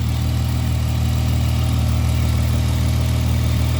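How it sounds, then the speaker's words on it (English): A car engine idles with a steady, low rumbling drone, close and continuous, with no voices or other sounds. "All right, you can hear the engine running."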